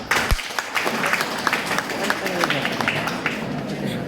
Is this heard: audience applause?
yes